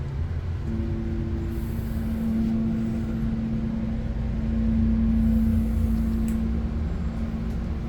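A vintage Dover elevator motor in a department store runs steadily with a low, constant hum and whine that persists throughout, with no talking.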